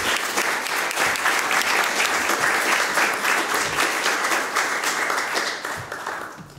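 An audience at a political institutions conference gives sustained applause to the panelists, a dense wash of many hands clapping loudly that fades out toward the end.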